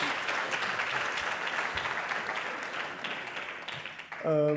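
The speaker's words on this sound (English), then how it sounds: "Great round of applause, please." A crowd at a London founders' pitch event applauds a founder with steady, even clapping. A voice starts speaking over it in the final half second.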